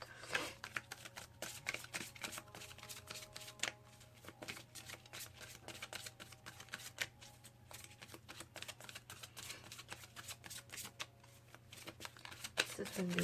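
Gabrielle Bernstein Miracles Now oracle cards being shuffled by hand. Rapid, close riffling clicks and flutters run throughout over a low steady hum.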